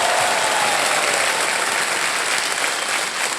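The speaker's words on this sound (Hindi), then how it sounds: "जोरदार तालियां बज जाए इनके लिए" Dense, continuous applause from a quiz show studio audience cheering a contestant's cash win, loud and even throughout with no voices over it.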